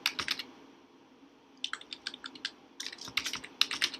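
Quick bursts of keystrokes clatter on a computer keyboard while data is entered into an Excel spreadsheet, with a pause between the bursts.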